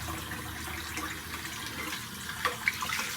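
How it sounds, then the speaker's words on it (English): Water drains and runs in a bathroom sink during a wet shave rinse, a soft continuous trickle and gurgle close by, with a few small clinks and splashes near the end and no talking. "going to let some of the water out here and rinse off"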